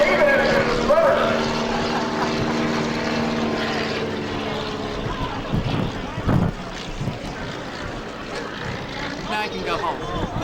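A small propeller airplane takes off at an air show at Torrance airport in California, its engine droning loudly under wind buffeting, with excited voices talking and cheering over it.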